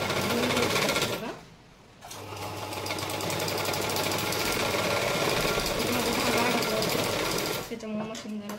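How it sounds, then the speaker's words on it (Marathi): An electric sewing machine runs steadily, stitching a plain blouse, with a loud continuous mechanical whir that pauses briefly near the start and stops at the end. "आता आपण ज्या आपल्या एक्स्ट्रा ज्या शिलाई आहेत त्या आपण देऊन घ्यायचं बघा."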